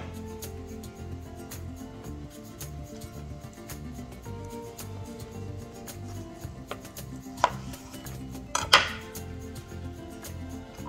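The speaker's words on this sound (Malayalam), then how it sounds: "നമുക്കൊരെണ്ണം ഒന്ന് കട്ട് ചെയ്യാം." A knife slices through a stuffed capsicum on a board, a soft repeated cutting rhythm with a few sharper clacks of the blade striking near the end, close and quiet, no talking.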